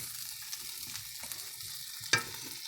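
A slice of butter melting in a pan with seasonings stuck to the bottom while making beef stroganoff, a quiet continuous sizzle broken by light scrapes and one sharp clack.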